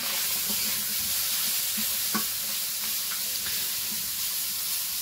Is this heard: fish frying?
yes